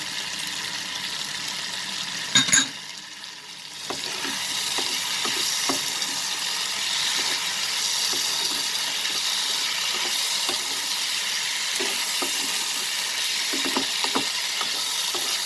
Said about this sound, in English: We'll saute it for a minute over high flame.